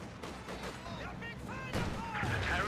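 A short-range artillery barrage in Company of Heroes 2 sounds as repeated dull booms and crackling impacts, with someone commentator talking over them throughout.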